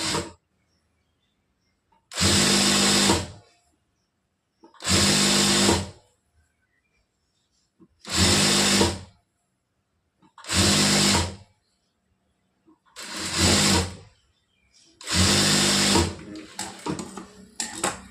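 A sewing machine stitches a blouse in seven short, even bursts of about two seconds each, separated by silent gaps, loud and close.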